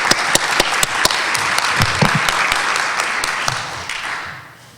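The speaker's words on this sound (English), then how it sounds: "all of us should give him a round of applause" An audience claps steadily, loud and close, with a few sharp individual claps standing out and brief voices underneath, before the applause tapers off.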